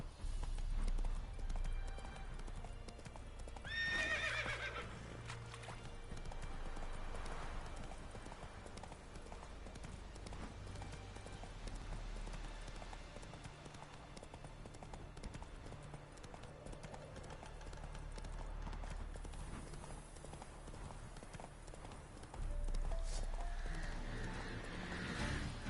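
A horse gallops in the video game The Witcher 3, its rhythmic clip-clop hoofbeats running continuously, with a possible short whinny early on.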